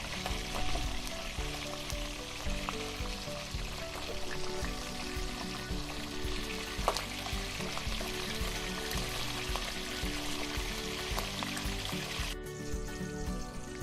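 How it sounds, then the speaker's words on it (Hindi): Broccoli fries lightly in a pan with a steady, dense sizzle and crackle, continuous and close, with a few small pops and no talking. "ब्रोकली हल्की सी फ्राई हो गई है"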